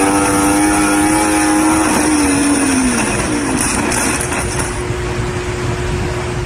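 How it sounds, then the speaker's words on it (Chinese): A group of heavy motorcycles on a road, one rider's engine rising sharply under hard throttle just before he pops a wheelie and crashes; a loud, continuous roar with a steady tone that climbs and then shifts, close and dominant throughout. "突然油门声音加重"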